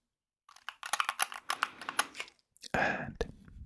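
Keys clack on a Wooting 60HE keyboard in a rapid, close, crisp run of taps, followed by a brief pause and then a louder, fuller burst of keystrokes.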